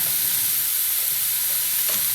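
A burger bun toasting in a hot frying pan, giving a steady, loud, continuous sizzle with no talk over it.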